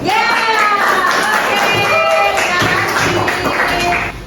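Classroom applause for a student group's presentation, a dense continuous patter of many hands clapping together at steady loudness, with murmured voices mixed in.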